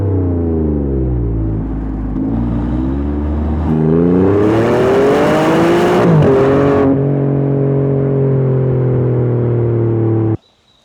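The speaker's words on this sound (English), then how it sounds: "this must be the best sounding turbo car we've ever tested" Turbo engine of an Alfa Romeo Stelvio QV accelerating hard, a loud, close, rising drone broken by gear changes, with a rasping burst near the top of the run before settling to a steady hum and stopping suddenly.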